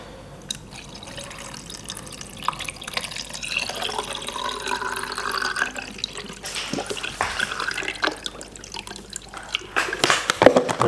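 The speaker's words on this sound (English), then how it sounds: "Now let's put the cold stop bath in" Cold stop bath, around 5 degrees, is poured into a film developing tank, giving a soft irregular trickle and splash with scattered drips and a few sharper knocks toward the end, fairly close and quiet.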